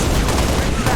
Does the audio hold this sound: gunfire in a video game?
yes